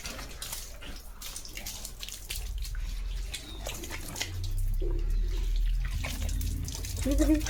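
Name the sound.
water gushing from a broken tap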